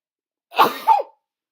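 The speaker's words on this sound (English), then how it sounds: "I just sneezed." A single sharp sneeze up close, two quick bursts of breath in one burst, followed by silence.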